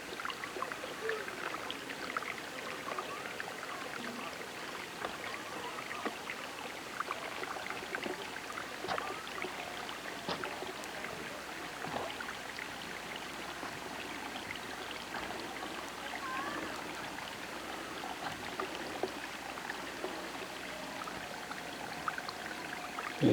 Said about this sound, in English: this is some of that warm water that comes trickling down